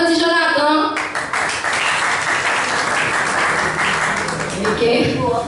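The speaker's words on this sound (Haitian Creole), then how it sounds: "Applaudis Jonathan." Audience applause for a performer going up on stage at a gathering, a dense burst of clapping lasting several seconds between stretches of talk.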